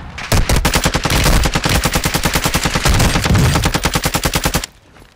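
Rapid automatic gunfire from the video game Modern Warfare 2, loud and close, with a dense stream of shots that runs steadily for over four seconds before stopping abruptly.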